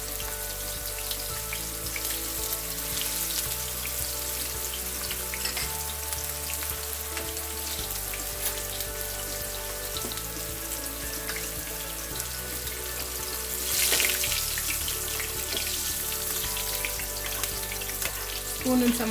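Seer fish sizzling and crackling in hot oil in a pan over lowered heat, a steady close frying hiss with scattered pops and spits running throughout, briefly swelling louder midway.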